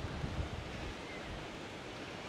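Ocean waves breaking on the beach at Balneário Camboriú's Praia Central, a steady wash of surf with a heavier rolling surge near the start, mixed with some wind noise.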